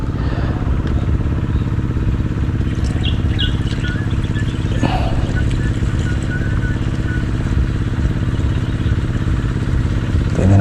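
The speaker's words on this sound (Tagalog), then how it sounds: "karga tayo ng gasolina sa mga makina pang spray" A gasoline engine on a crop sprayer machine runs steadily and loudly at close range on a farm, with a rattly drone throughout and faint birds chirping in the background.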